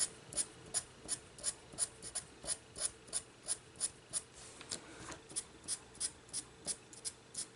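Derwent pastel pencils colouring on paper, a close, quiet scratchy stroke repeated in a steady back-and-forth rhythm, about three strokes a second, with no talking.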